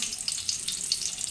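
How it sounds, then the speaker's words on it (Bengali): Papad fries in hot oil in a home kitchen, a brief, close, steady crackling sizzle with small bubbling pops and no talk. "এখন একটু পাঁপড় ভেজে নেব"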